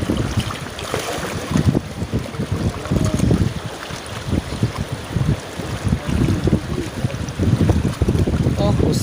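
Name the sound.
strong wind blowing outdoors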